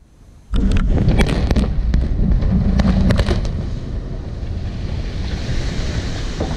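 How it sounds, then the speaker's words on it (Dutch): A sudden heavy blast from a canal lock being blown up in Terneuzen erupts after a quiet moment, followed by a long rolling rumble and crackling debris that slowly fades, heard from a distance outdoors. "Dit was de klap van gisteren die veel Terneuzenaren nog lang bij zal blijven."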